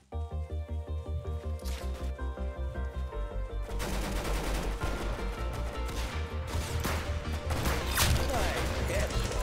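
Gunfire in the Roblox Arsenal video game: a rapid, regular burst of automatic shots, followed by a dense, loud, continuous barrage of shooting and impacts, with a player talking briefly.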